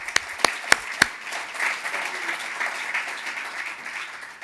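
A few loud, separate hand claps close by open the moment, then a softer, scattered round of applause from a conference audience at a Boston College finance event carries on at lower level.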